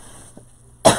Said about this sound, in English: Probably coughing right in you guys' ears.